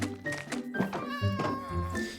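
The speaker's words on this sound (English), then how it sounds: "Kitty!" A cat in the Minecraft video game meows in a few drawn-out, rising and falling tones that overlap one another, close and fairly loud.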